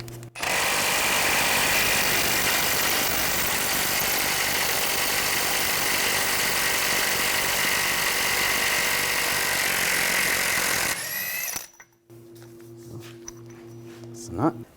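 A power tool with a 36mm 12-point socket spins off the rear axle nut of a 2009-2013 BMW 328i xDrive, a loud sustained whirring buzz for about ten seconds, then stopping, with a few clinks and a short burst after.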